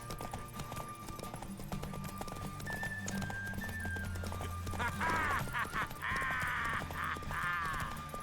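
In The Witcher 3, a horse's hooves clop at a quick pace and several sharp neighs rise toward the end, with speech and game music running underneath.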